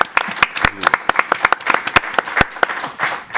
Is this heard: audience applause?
yes